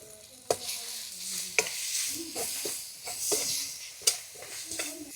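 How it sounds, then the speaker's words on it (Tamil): Green chilli, curry leaves, tomato, black pepper, cumin and fennel sauté in hot oil in a pan outdoors in a garden at night: a steady close sizzle broken by several sharp spoon scrapes and clinks against the pan, with no voices. "பச்சை மிளகாய், கருவேப்பிலை இது மூணுத்தையும் சேர்த்து வதக்க போகிறேன்."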